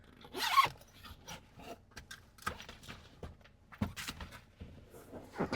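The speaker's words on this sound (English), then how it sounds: "for that you need to unzip this" Zipper on the rear centre armrest of a Mahindra XUV 3XO being opened inside the cabin, quick close rasping zip pulls in several short bursts, with soft handling knocks and rustles between them.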